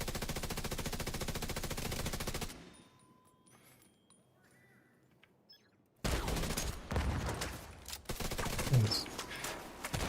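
Video game gunfire: rapid automatic bursts rattling densely for a couple of seconds, a lull of quieter game ambience, then the heavy firing resumes until the end, close and loud.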